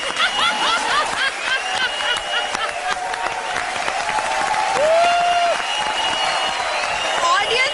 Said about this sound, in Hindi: तालियों की बरसात हो रही है